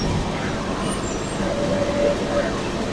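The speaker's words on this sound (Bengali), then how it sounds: "আমাদের ট্রেন এখন ঢুকলো গয়া, গয়া জাংশন" KOAA AGC Express (13167) pulling into Gaya Junction: a steady low rumble of the moving train with rolling noise throughout and a faint tonal squeal near the middle, with some voices in the background.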